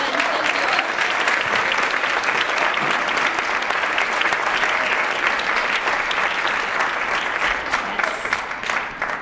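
Sustained applause from a seated audience thanking panelists at a discussion event, dense and even clapping that fills the room and tapers slightly toward the end.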